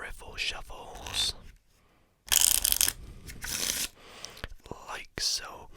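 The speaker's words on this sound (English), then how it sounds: "a few riffle shuffles" A deck of playing cards is riffle shuffled several times, each shuffle a close, crisp ratcheting flutter of cards interleaving, separated by brief quiet handling pauses.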